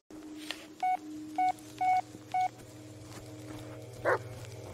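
In the Blair Witch video game, four short, evenly spaced electronic phone beeps sound in a dark, damp setting over a low ambient drone, followed by a single sharp dog bark near the end.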